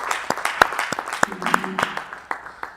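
Scattered clapping for a birthday during a livestreamed gathering, a loose run of individual claps at uneven intervals, close and fairly loud, with a faint voice underneath.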